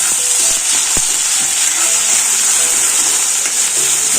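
Vegetable curry frying in a pan gives a loud, continuous sizzle, with occasional scrapes and taps from stirring and no voices.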